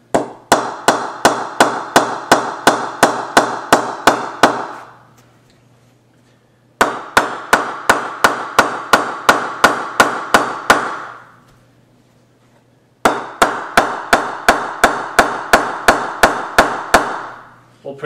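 Cricket bats strike a ball in three quick bursts of sharp, ringing pings, each burst a rapid even series of about a dozen hits, separated by short silences.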